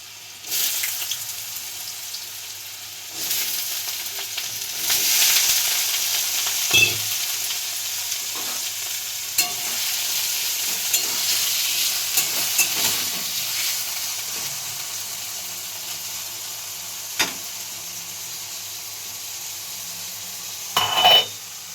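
Chopped potatoes frying in hot oil in a pan, a loud continuous sizzle lasting throughout, punctuated by occasional scraping stirs and clanks of the utensil.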